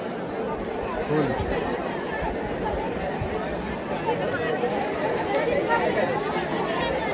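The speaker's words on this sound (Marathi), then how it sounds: "ही गर्दी" Dense crowd chatter at a temple darshan for Aai Ekvira, a steady hubbub of many voices and movement filling the space at close range without pause.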